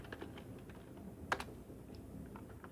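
A computer keyboard being typed on to enter an MS-DOS command, a handful of soft close key clicks with one sharper keystroke midway, alone in a quiet room.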